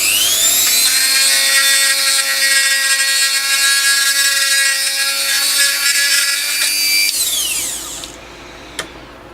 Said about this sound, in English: Let's just give it one more little drill and just get it a bit bigger.